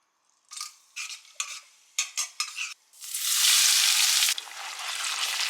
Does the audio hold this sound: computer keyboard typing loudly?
no